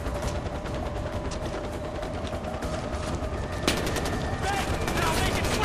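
Sustained gunfire rattles through a Far Cry 4 fortress fight at Varshakot, a dense fusillade of shots that grows sharper and heavier after a sudden louder burst near the end, with voices talking over it.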